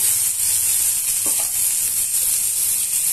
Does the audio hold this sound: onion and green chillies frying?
yes